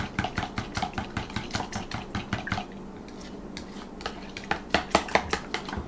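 Waffle batter is mixed in a bowl with a utensil, giving rapid rhythmic clinks and scrapes against the bowl's sides. The strokes are close and steady, pause briefly midway, then resume more forcefully.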